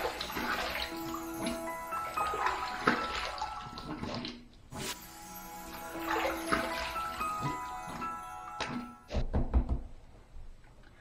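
Water splashes and runs while a face is rinsed after shaving, with irregular bursts of splashing and dripping, a short pause midway and a few thumps near the end, all close and moderately loud.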